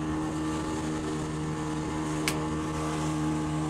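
Steady engine drone of a motorboat carrying passengers across the sea to Playa Cristal in Tayrona park, Colombia, a continuous close hum with a brief splash-like burst near the middle and no voices.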